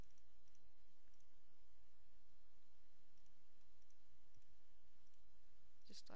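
On a Windows Vista computer, a mouse clicks keys on the on-screen virtual keyboard, giving a series of faint, light clicks at uneven intervals over a quiet background hiss.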